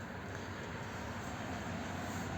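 A train runs on a Czech railway line, a steady, faint rumble of wheels and rails with no talk.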